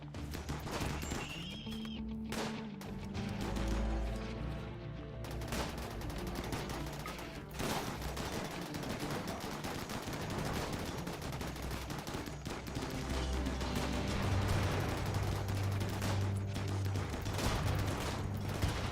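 Turret gunfire in the video game RimWorld during a sea ice colony fight, sustained rattling bursts running throughout at moderate level, mixed with other game sounds.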